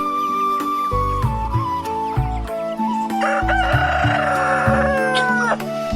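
A chicken crows and clucks loudly and close by, in repeated calls that fill the whole stretch with no talking.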